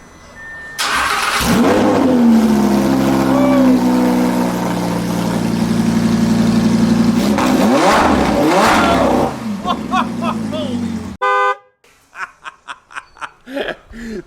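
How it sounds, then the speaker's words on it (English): An Audi R8 V10 Plus fires up with its exhaust removed, a loud crank catching into a roaring idle, then sharp revs climbing and falling, followed by a cut and a burst of laughter and chatter. "So we gotta start it up with no exhaust."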